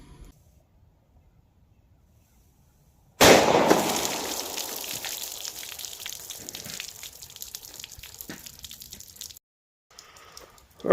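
Fiocchi 38 Special 148 grain JHP rounds are fired into test jugs behind layers of denim, fleece and cotton, giving a sudden loud burst followed by about six seconds of splashing, crackling noise.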